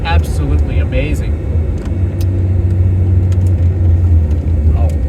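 Noble M12 GTO 3R sports car engine rumbling steadily, heard from inside the car, a deep continuous drone with someone talking over it.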